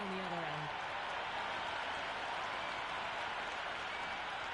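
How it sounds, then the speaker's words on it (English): A cricket stadium crowd in the Cricket 26 video game keeps up a steady, broad roar with scattered applause, a dense wash of noise throughout that sits under a brief voice at the start. "already the crowd making a hell of a racket"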